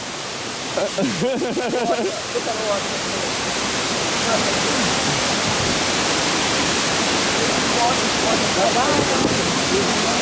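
Fuller Waterfalls in Kintampo, Ghana, gives a loud, continuous broadband roar of falling water throughout, with voices briefly heard near the start.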